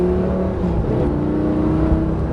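A Lamborghini Gallardo 520 CV engine accelerates hard on the Marcoussis track, a loud, steady, close-up roar with rising harmonic tones throughout the short stretch.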